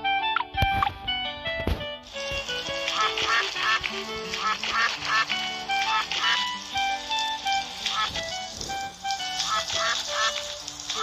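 A cartoon duck quacks repeatedly in the BabyBus Kiki & Miumiu rescue game while it gets a bath, bright rhythmic quacks over busy game music and splashy effects.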